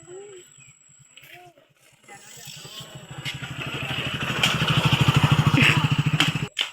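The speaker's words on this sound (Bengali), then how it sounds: "ওই দেখুন তো মোটর সাইকেল আসতেছে" A motorcycle engine approaches on a road, its rhythmic putter growing steadily louder and closer over several seconds after a brief stretch of voices at the start.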